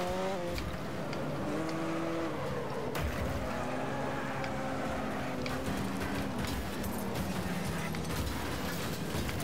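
Race car engines in Wreckfest roar and rise and fall in pitch as cars jostle, with revving, gear shifts, scraping, and a sharp impact partway through, loud and continuous with no talk.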